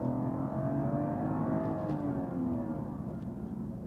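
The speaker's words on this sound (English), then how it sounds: "try this with a bit more of an aggressive acceleration to see under pressure, does the transmission shift just as smooth" A used car is pushed into hard acceleration on a test drive, a fairly loud engine drone rising steadily in pitch as it pulls, heard from inside the cabin with no talk over it.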